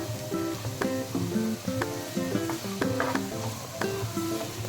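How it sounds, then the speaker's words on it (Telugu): Onions and green chillies fry in a pan for Yippee noodles, a continuous close sizzle with stirring, partly covered by a prominent background melody. "ఆనియన్స్ని కొంచెం ఫ్రై చేసేసుకోవాలి. ఇలా ఫ్రై అవుతున్నప్పుడే మిర్చి వేసుకుందాం."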